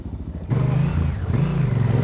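A big Honda Africa Twin adventure motorcycle bogged in a muddy hole at an enduro ride, its engine revving hard and rising and falling in pitch, loud and close, struggling against the mud.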